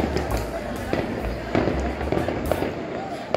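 Fireworks go off outdoors on New Year's Eve in Paralimni, Cyprus, a dense continuous crackle of bursts and pops at moderate distance, with a voice speaking over them.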